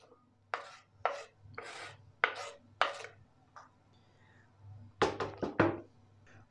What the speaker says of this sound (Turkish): Şimdi bütün tavuklarımı küçük küçük lime lime doğrayacağım.